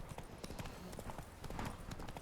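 Horse hooves clip-clopping at a steady trot in The Witcher 3, a quick, even rhythm of muffled beats, quiet and continuous throughout.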